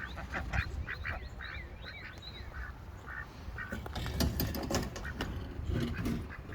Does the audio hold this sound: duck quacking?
yes